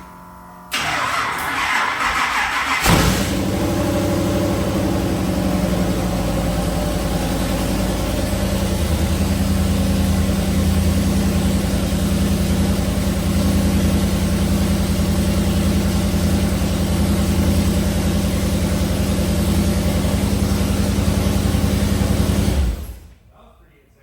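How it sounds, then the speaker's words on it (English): A junkyard big block Chevy V8 in a mega truck cranks over, fires and settles into a loud, rough, steady idle for about twenty seconds before cutting off abruptly. "We haven't heard this engine run."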